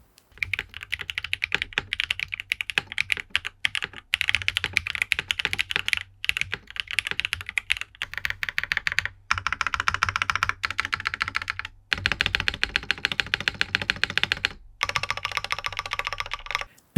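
Typing on a custom mechanical keyboard with a top-mount FR4 plate gives a rapid, uneven stream of crisp key clacks with airy, thonky spacebar presses, close and steady with brief pauses, and no speech.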